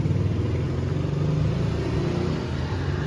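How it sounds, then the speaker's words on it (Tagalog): Cars and motorcycles pass along a street at night, a continuous near engine hum with rising and falling revs, no talking heard. "Ang daming dumadaan ng sasakyan dito paggabi. Kaya maingay."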